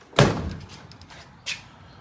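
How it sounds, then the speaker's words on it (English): A Ford Ranger pickup door, fitted for removable-door conversion, shuts with one firm slam up close, followed by a lighter latch click about a second later. "shut the door."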